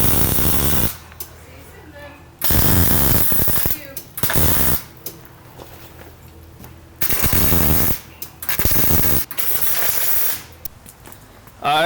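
An industrial welder tack welds metal in place, producing repeated close bursts of harsh crackling hiss, each lasting one to two seconds and separated by short quiet gaps.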